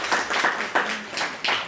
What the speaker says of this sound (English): A clap for yourselves